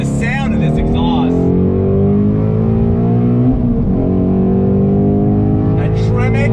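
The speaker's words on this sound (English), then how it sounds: "But the sound of this exhaust," 2019 Ford Shelby GT350 Mustang, manual Tremec gearbox, with its exhaust droning steadily and loudly while driving, a continuous engine note under a person talking throughout.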